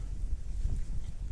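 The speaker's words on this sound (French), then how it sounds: "il y a beaucoup de vent aujourd'hui" Strong wind outdoors in a vegetable garden buffeting the microphone, low rumbling gusts that thump and swell unevenly through the short stretch, with no talk over it.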